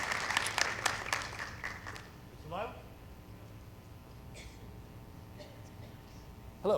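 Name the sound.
audience applause for the family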